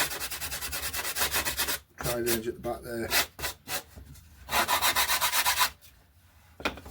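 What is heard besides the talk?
sanding stick smoothing glued RC glider wing edge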